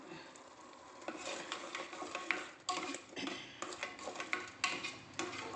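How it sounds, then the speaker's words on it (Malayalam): Spoon scraping and stirring through pumpkin, ash gourd and lentil erissery in a pot, a steady run of close scrapes and clinks with a faint sizzle underneath, no talking. "ഇപ്പം ആവശ്യത്തിന് ഉപ്പിടുക. എല്ലാം കൂടി ഇളക്കി ചേർക്കാം."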